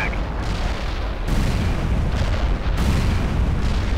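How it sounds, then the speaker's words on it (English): Bunker buster bombing in the video game World in Conflict sends heavy explosions rumbling one after another, loud and close, with sharp booming onsets and a continuous roaring tail. "Bunker Buster ordered, commencing attack."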